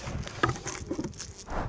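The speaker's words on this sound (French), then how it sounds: "Et voilà, c'est la pluie." Rain patters outdoors beside beehives, a faint, steady scatter of light drops with no voices.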